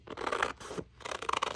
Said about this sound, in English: So I'm going to cut it about an inch or a half an inch